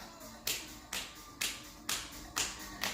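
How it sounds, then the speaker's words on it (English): Six sharp hand claps in an even rhythm during a seated chair-strength exercise routine, close and crisp with short gaps, no talking. "Now we clap"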